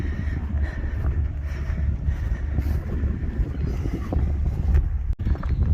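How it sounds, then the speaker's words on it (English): Blustery wind buffeting a microphone on an exposed hilltop walk at Dunkeswell, Devon, a loud continuous low rumble with gusty swells and a brief dip near the end. "It's a bit blustery up here, so I do apologise if it's coming through quite loud on the microphone."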